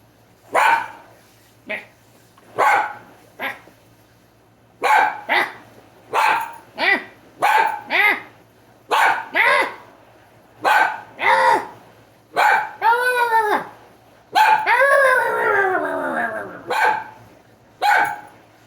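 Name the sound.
dog barking and howling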